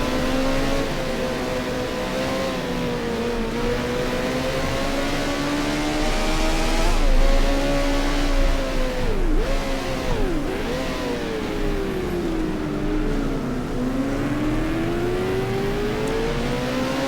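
A Formula 1 car from a 1978-season racing game revs steadily in third gear, its buzzing engine note rising and falling through gear changes for the whole stretch, loud and continuous with no talk.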